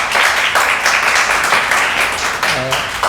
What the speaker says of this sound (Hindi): एक बार आपके लिए भरपूर तालियां होनी चाहिए।